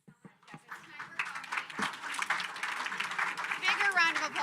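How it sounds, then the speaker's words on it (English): Applause from a conference audience at a UN General Assembly Food Day event, a dense crowd clapping that starts with a few claps and builds to a steady, fairly loud wash. "Bigger round of applause for these wonderful people."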